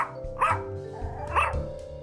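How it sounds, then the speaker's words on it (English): Mona, a detective's dog, gives two sharp barks about a second apart, fairly close over a low steady background hum. "And Mona, my trusty crime-finding dog"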